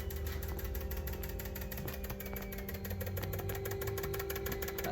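An electric pump running on an RB30-engined R31 Skyline drift car in a workshop: a steady mechanical hum with a rapid pulsing whir, close and continuous.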